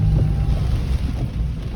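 Strong hurricane wind during Hurricane Helene, a loud continuous roar buffeting the microphone with low rumbling gusts, no speech.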